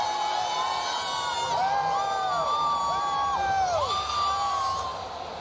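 A stadium crowd at a Texas vs Oklahoma college football game keeps up a loud, sustained roar of cheering and whooping, with shrill whistles and shouts rising over it before it begins to fade.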